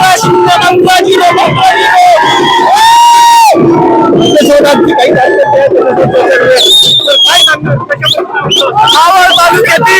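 Party workers celebrating an election victory with Ajit Pawar's photo make a loud, dense crowd roar of cheering, shouting and whistles, with a long sustained whistle or horn blast partway through and voices throughout.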